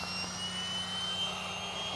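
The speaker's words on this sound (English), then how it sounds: "see how long it actually takes the little inflator to inflate this entire pad" A small electric inflator fills a sleeping pad with a loud, steady whirring drone. The tone is continuous and unchanging and is heard close up with no talking.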